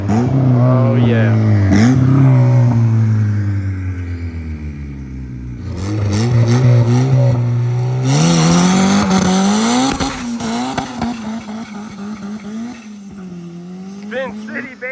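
Honda EG hatchback with a new exhaust revving hard, the engine note climbing and falling in repeated surges with tire squeal, while people talk and shout over it.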